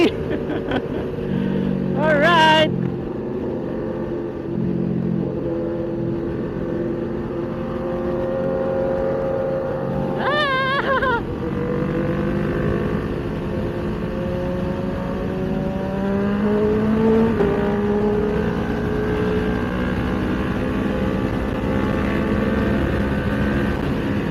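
Fast 1000cc motorcycles rush past on a group ride, their engines roaring and whining loudly over a constant road rumble, while people talk excitedly through the noise.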